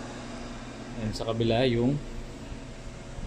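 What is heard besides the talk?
4-inch fan blower of DIY cacao winnowing machine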